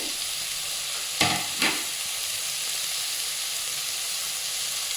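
Green chillies, coriander and curry leaves sizzle in a hot pan with a constant frying hiss, broken by two short louder stirring scrapes early on, close and with no talk.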